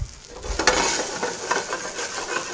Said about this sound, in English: that's been sauteed by deglazing the pan with the brandy